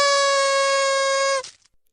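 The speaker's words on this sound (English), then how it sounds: "One more air horn right here." A single air horn blast, loud and steady with a bright, buzzing tone, holds for about a second and a half before cutting off sharply.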